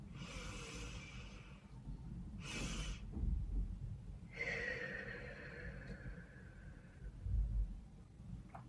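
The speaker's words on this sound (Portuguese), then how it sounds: "Você vai dar essa primeira respiração normal, na sua maior capacidade pulmonar, fazendo essa respiração diafragmática aqui pela barriga." Slow, deep diaphragmatic breaths drawn in and let out calmly through the mouth during a relaxation exercise, with a few soft airy whooshes spread across a quiet, close recording and no talking.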